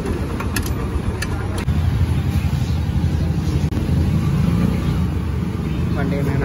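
A Hero Hornet motorcycle engine rumbles steadily at close range, a low, continuous idle with a louder surge after it catches, heard among ambient noise and clicks.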